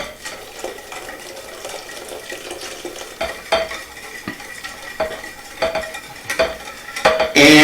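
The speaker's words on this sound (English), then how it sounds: "Put a quarter of it in, whisk it, put another quarter in." A whisk beating a cherry cordial ice cream base in a bowl, with steady close clattering and scraping against the bowl, growing louder toward the end and no talking.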